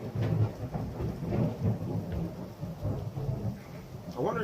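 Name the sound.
thunder and rain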